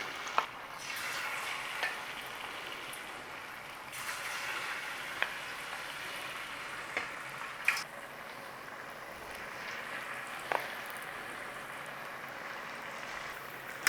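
Battered cauliflower frying in shimmering hot oil: a steady, close crackling sizzle throughout, with occasional sharper pops and light clinks.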